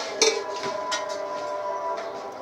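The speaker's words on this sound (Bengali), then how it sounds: "এখন এই খিচুড়িটাকে আমি আবার ঢেকে দেব।" A metal lid goes onto a pot of khichuri with one sharp clink, then light rattles and a faint ringing hum as it settles.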